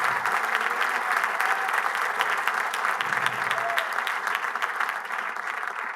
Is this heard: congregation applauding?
yes